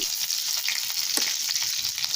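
Mustard seeds, curry leaves and dried chillies frying in hot oil, a bright close crackling sizzle with sharp spluttering pops, steady and alone without talk.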